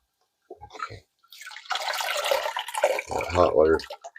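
Hot water runs from a tap in a short burst of rushing, splashing flow, close and fairly loud, after a few faint clicks and handling sounds.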